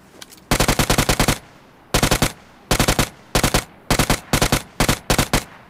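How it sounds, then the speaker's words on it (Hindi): UMP submachine gun firing in the BGMI video game, loud, close bursts of rapid automatic fire separated by short pauses, with no talk. "यूएमपी कितनी गंदी गन है।"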